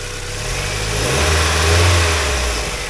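A 2002 Mazda Miata NB engine runs on a test drive on a cold day, revving up and settling with a steady close mid-low drone and a broad rise in loudness partway through, no talk.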